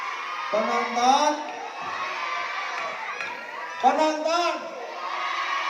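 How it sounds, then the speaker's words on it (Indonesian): An audience at a quiz contest held at an Islamic boarding school cheers and shouts, with young voices rising in loud bursts near the start and again toward the end over a continuous crowd din. "Suara terbanyak penonton."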